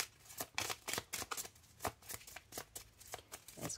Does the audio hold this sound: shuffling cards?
yes